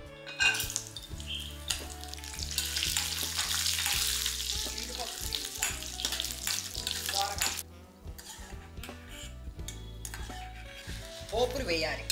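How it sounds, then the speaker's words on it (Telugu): Chana dal, urad dal, mustard seeds and dried red chillies tempering in hot oil, crackling and sizzling loudly and continuously up close with scraping stirs against the pan, and a brief quieter spell partway through. "పోపులు వేయాలి. శనగపప్పు, మినప్పప్పు, ఆవాలు, 2 ఎండుమిరపకాయలు,"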